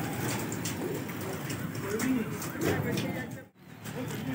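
Pigeons coo repeatedly at a pigeon-flying contest loft, the low throaty calls steady amid rustling and background murmur, broken by a brief drop near the end.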